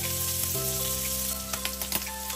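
Chicken pieces frying in butter with a little salt, a steady close sizzle with occasional crackles and stirring scrapes, no talk.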